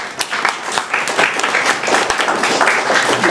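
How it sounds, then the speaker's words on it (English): A small crowd at a high school gives a short burst of applause, a dense patter of hand claps close by, steady throughout and slightly swelling toward the end, with no voices over it. "Small applause."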